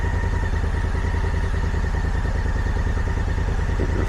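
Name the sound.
motorcycle engine idling while parking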